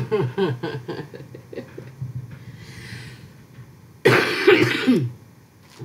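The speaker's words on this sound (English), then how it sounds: "I still have the cough." Harsh, throaty coughing and throat clearing, close up in several rough bursts with a louder fit near the end.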